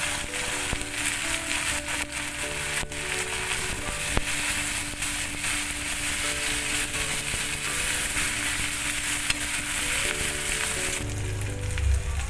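Kharkun (bhetkul) leaves dropped into a hot pan with ginger and a pinch of baking soda, then stirred, giving a steady loud sizzle with faint scraping throughout and a brief heavier hiss near the end.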